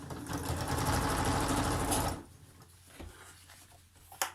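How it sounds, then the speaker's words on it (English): A sewing machine runs steadily for about two seconds, double stitching upholstery fabric for a wine bottle gift bag, then stops, leaving faint handling noises and a sharp click near the end. "Now I'm going to double stitch this as well."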